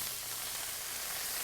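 Garlic chicken with lemon juice cooking in a pan, a soft, steady hissing sizzle throughout, faint and continuous with no talk.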